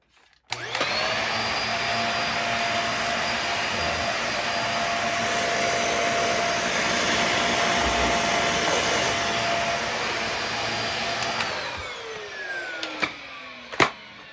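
A Dyson vacuum cleaner switches on with a quick rising whine, roars steadily and loudly for about eleven seconds, then spins down with a falling pitch followed by a few clicks and knocks.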